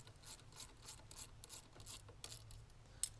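A ratchet tightening a nut on a 1165V stroke limiting collar, a quiet rhythmic rasping of repeated short strokes, close and soft, with a small click at the end.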